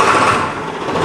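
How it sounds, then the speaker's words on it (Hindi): A Farmtrac 6055 T20 tractor engine starts up with a loud, close, steady mechanical whir that fills the brief moment without any talking. "जैसे मैं ट्रैक्टर को स्टार्ट करूंगा"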